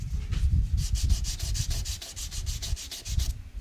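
Fine 320-grit sandpaper rubbed back and forth over a surface in quick, even strokes, about five per second, making a close, steady rhythmic rasp with no talking.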